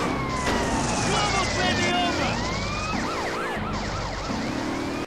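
Wailing police car sirens in a Grand Theft Auto game sweep up and down continuously over a busy, dense game soundscape with engine noise; the sound stays loud throughout.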